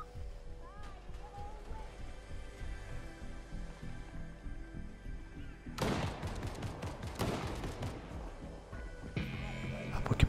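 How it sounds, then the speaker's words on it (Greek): Gunfire in Fortnite rings out as loud bursts of rapid shots midway and again near the end, over a busy background of game ambience and music. "Πέρα πίσω ακούγονται πυροβολισμοί."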